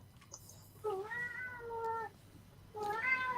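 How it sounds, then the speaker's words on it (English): A cat gives two drawn-out, wavering meows at close range, the second starting just after a short pause, with no talk over them. "What are you doing to that cat, dude?"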